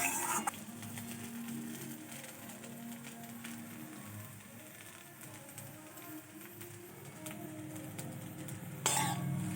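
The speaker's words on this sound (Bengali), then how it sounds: "ভালোভাবে মিশিয়ে নেব মশলাটা।" Chow mein masala is mixed through noodles in a pan, with steady scraping and stirring, light clinks of utensil on metal throughout and a sharper knock at the very end.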